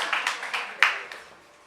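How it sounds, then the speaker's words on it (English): A small audience at a business talk claps briefly, a handful of sharp scattered claps that fade out within a couple of seconds. "clap for yourself"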